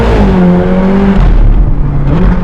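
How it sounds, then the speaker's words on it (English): Ferrari California V8 revving hard, its dual-clutch gearbox snapping through a quick downshift; a loud, close engine roar with a pitch that holds, dips and then climbs again, with no voices. "It's a Ferrari, and which means it's very loud. That gearbox is insanely quick. Downshift."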